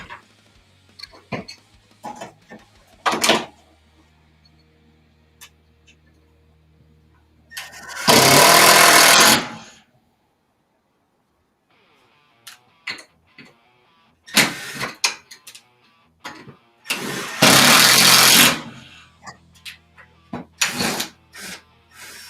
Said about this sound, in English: I'm screwing the vise directly to the bench